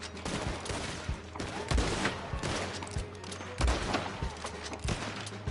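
Repeated gunshots in the Red Dead Online video game, sharp cracks firing in irregular bursts over a dense, busy background of continuous game sound, several heavier booming reports standing out.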